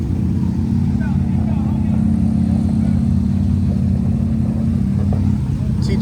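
A steady, close engine rumble from an off-road car out on the Glamis sand dunes, held at a constant low drone throughout, with people chatting over it.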